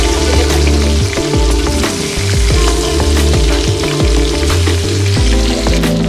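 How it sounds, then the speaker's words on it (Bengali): Bhetki fish frying in hot oil in a pan for a fish-head kanta chochchori, a loud, continuous sizzle close by, broken by repeated scraping strokes as the pieces are stirred and turned. "এই মাছ যত সুন্দর করে ভাজা হবে তত খেতে থাকবে"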